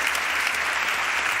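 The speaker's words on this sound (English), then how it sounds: "Please give him another big round of applause." Sustained applause from the audience at the 2021 FIM MotoGP Awards ceremony honouring rider Fabio, a dense steady clapping wash filling the hall without pause.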